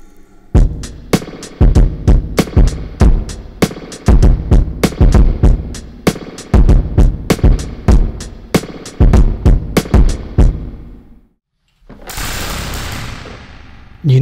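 Heavily overdriven electric guitar through an effects pedal with reverb, played as loud, fast, rhythmic chugging chords. The chords stop briefly near the end, then a noisy, distorted wash follows.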